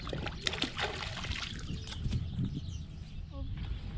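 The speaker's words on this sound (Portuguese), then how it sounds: "Bora pra água que a Camila tá com outro ali" A pirarara catfish, plump and heavy, is released back into a fishing lake, with small splashes and trickling water close by amid outdoor ambience and a few bird calls.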